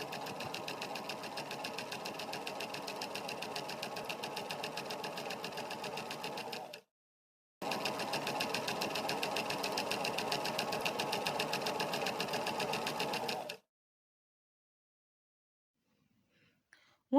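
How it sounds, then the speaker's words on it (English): An electric sewing machine stitches fabric for a jacket in two long, even, rapid runs of close mechanical whirring, separated by a one-second pause, then stops and leaves near silence. "Then when we are done, we are going to take it to our machine and sew"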